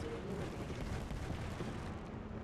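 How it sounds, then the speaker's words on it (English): Knuckle cluster explosives going off in a video game, a dense, rumbling barrage of overlapping blasts and bursts that roars continuously at moderate level, with no voice over it. "Back, knuckle clusters firing."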